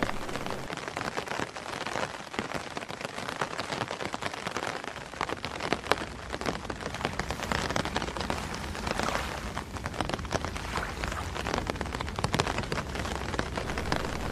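Rain falls steadily at night in a quiet rural spot, a dense continuous patter and hiss on surfaces holding a constant level throughout, with no voices.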